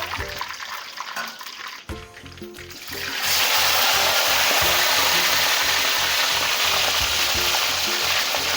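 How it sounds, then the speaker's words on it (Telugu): Lobster drops into hot oil in a pan and erupts into a loud, continuous frying roar that rises quickly after a brief quieter moment and holds steady to the end. "దీన్నే జస్ట్ 2 seconds ఫ్రై చేస్తే చాలు."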